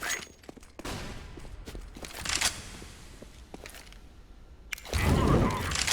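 A flashbang grenade thrown in a video game, with scattered sharp bursts and clicks followed by a loud, broad blast near the end.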